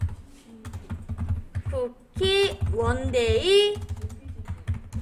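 Typing on a computer keyboard while entering text in an illustration program, with soft rapid key clicks running under a spoken tutorial voice throughout.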